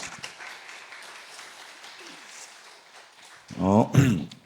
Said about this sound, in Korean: 귀한 은혜 나눠주신 우리 선생님께 박수 한 번 더 드리겠습니다.